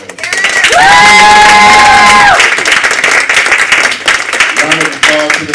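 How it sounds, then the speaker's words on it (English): An audience at a high school poetry slam claps and cheers for the poets, with a loud whoop and shouts rising over dense applause, then thinning clapping as voices carry on. "Another round of applause for all the poets."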